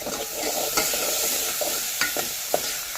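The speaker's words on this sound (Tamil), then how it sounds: "நல்லா வதங்கினோடனே தக்காளி போடணும்" Tomatoes sautéing in a pan for Arabic chicken kabsa, with a steady close sizzle and several distinct scrapes of a spoon stirring through them across the few seconds, no talking.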